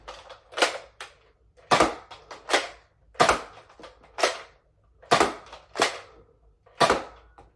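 A Nerf Elite Scout MK II blaster fires X-Shot Insanity waffle-head darts in sharp, close snaps, each shot followed by the clack of priming, about nine in irregular succession in a quiet room.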